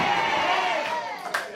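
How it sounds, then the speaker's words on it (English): A wrestling crowd at an Overdrive Wrestling match cheers loudly and steadily, a dense roar of voices that dips slightly near the end before a brief sharp burst. "The crowd certainly loves it."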